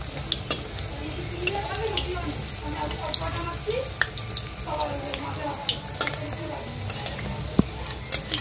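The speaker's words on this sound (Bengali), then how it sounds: "একটা সাইড ভাজা হয়ে গেছে, উল্টা আরেকটা সাইড ভেজে নেওয়া হচ্ছে।" Mixed vegetable pakoras fry in hot oil with a continuous crackling sizzle as they are turned over, punctuated by frequent light clinks and taps from a utensil.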